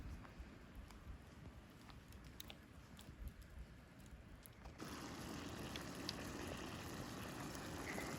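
Rosehip jam in a pot bubbling and simmering steadily after hours of boiling, soft popping and gurgling that grows denser and louder partway through, no voices.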